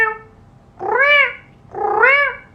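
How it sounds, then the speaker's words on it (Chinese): Recorded cat meows played back as a call to a playmate: two rising-and-falling meows, each about half a second long, separated by a short pause, clear and fairly close with nothing else around them. "这是猫咪召唤玩伴的声音"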